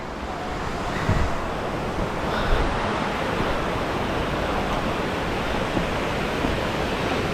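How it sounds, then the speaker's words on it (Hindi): At Botalda waterfall in Janjgir-Champa, water pours between rocks beside a cave, making a loud, continuous roaring rush with slight swells and no voices. "इसके बीच से पानी आ रहा है, चट्टानों के बीच से।"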